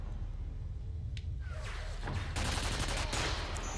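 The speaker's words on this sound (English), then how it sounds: "I have a turret." Turret gunfire in the shooter game F.E.A.R., a dense, continuous rattling fusillade with whooshing sweeps, loud and sustained throughout under the game's steady background noise.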